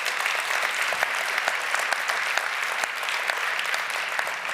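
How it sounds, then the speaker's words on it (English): A conference audience at a climate and education forum gives a round of applause for two speakers, a steady, full wash of many hands clapping at moderate distance. "Once more, a round of applause for Pedro and Nafisa,"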